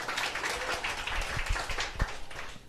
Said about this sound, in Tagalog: palakpak po, palakpak